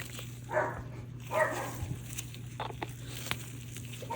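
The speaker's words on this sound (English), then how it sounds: "Excuse my dog in the background." A pet dog gives two muffled barks in the background of an indoor craft workspace, with soft faint rustles and taps in between.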